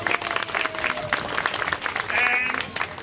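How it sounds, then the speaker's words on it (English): A circus audience in a tent gives a round of applause, a dense patter of many hands clapping at moderate distance, with a voice and a brief whistle-like tone rising over it. "Give him a round of applause."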